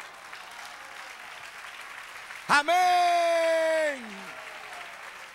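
A church congregation keeps up steady background applause while a voice rings out loudly over it for about a second.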